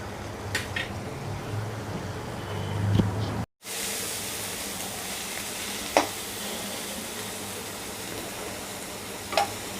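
Loitta (Bombay duck) fish frying in a kadai as the water cooks off, a steady moderate sizzle with a few faint clicks of a utensil against the pan and a brief break partway through.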